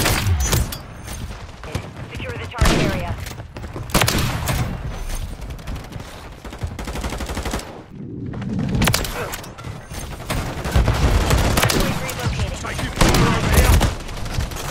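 Akimbo double shotguns fire in a video game in dense, loud blasts layered over a continuous roar of game noise, with a brief lull near the middle before the shooting resumes.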